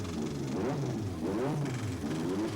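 A 1987 Williams Formula One car accelerates out of the pits at the Spanish Grand Prix, its engine note rising and falling in loud, continuous revving sweeps.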